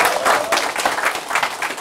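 A short burst of audience applause at a business meeting as a guest is called up on stage, steady and moderately loud.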